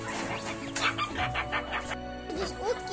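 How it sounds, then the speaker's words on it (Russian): Farmyard chickens cluck in a short, fairly quiet burst in a hot summer village setting where ducks are also kept, with soft chatter of a few clucks close by. "Здесь утки и курицы"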